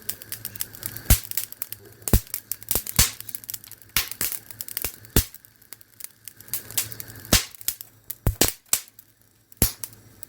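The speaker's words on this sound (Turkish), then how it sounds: "Hala patlama çatlama devam ediyor." Salt in a fire bursts into sharp crackles and pops at irregular intervals, some loud and close, with quieter crinkling sizzle filling the gaps between them.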